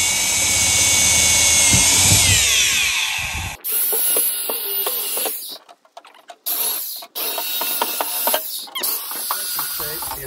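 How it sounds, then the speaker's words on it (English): A 50-year-old drill, wound up loud for the first few seconds, then changing to a sequence of clicks, rattles and grinding as the bit works through the material, with the level dipping and returning in bursts. "Nope, bigger drill."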